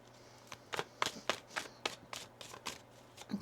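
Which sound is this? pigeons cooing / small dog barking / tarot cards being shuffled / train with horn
tarot cards being shuffled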